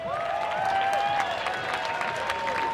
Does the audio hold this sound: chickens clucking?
no